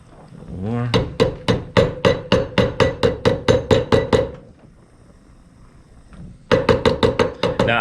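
Rapid, evenly spaced hammer blows on hot, glowing brass, a loud run of strikes, a brief pause, then another quick burst of hammering.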